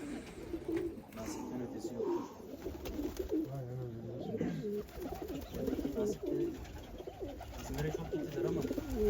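Pigeons coo repeatedly in soft, rolling calls at close range, with people talking in Turkish over and around them throughout.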